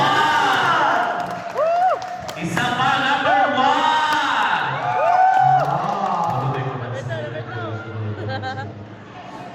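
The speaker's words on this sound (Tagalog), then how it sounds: "Palakpakan ng may kasamang sigawan kay contestant number 1." An audience cheers and shouts for contestant number 1 at a live show, loud mixed whoops and yells over crowd noise, with a voice calling out over the noise.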